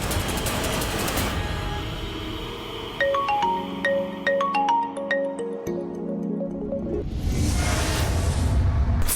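A phone rings in a repeating electronic melody of bright tones, entering after a whooshing transition and giving way to another broadband swell near the end.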